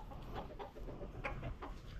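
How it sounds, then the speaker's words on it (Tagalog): Several chickens cluck in short, overlapping bursts against a steady low background rumble, fairly close and moderately loud. "Uy, pagkadaming manok."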